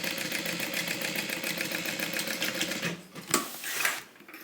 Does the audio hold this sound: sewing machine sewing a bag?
yes